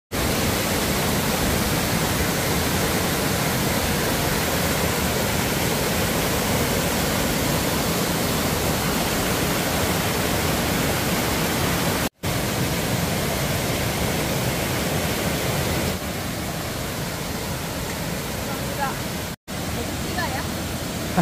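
Chilyeon waterfall on Deogyusan mountain, South Korea, roars steadily and loudly, a dense unbroken rush of falling water that continues without pause.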